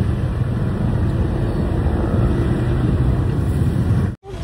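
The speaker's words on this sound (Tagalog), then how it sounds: "Ang ingay ng sasakyan." Vehicles roar past on a busy highway road near a bridge under construction in General Santos, a steady loud rumble of engines and tire noise with wind buffeting the microphone, cut by a brief dropout near the end.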